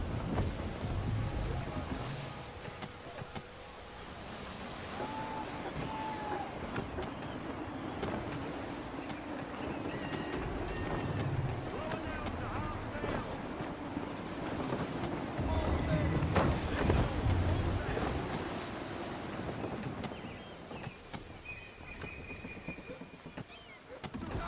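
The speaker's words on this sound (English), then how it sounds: "Wind looks to be shifting. Stay alert, Connor. Gusty winds can be difficult to manage." Gusty wind and a sailing ship at sea in Assassin's Creed 3, a low steady rush of wind and water with creaking and faint tonal calls, under intermittent voices.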